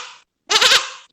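A goat bleats once, loud and close, a wavering nasal cry lasting under half a second, preceded by a short fading sound and then silence.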